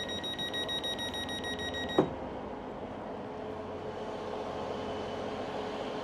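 A train stands at a station while warning tones beep steadily for a couple of seconds and then end with a sharp thud. A low, even rumble and hiss carry on afterward.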